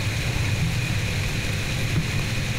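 Steady rain patters continuously at an even level outdoors in Ohio woods during a whitetail deer hunt, a dense wash of drops with a faint low rumble underneath.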